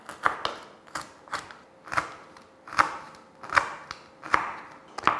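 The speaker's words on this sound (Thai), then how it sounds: "แล้วก็ซอยเป็นไฟฝอยเล็กๆนะคะ" A knife finely slices washed kaffir lime leaves on a cutting board, producing a steady series of about eight sharp, close chopping knocks in an even rhythm, with no talking.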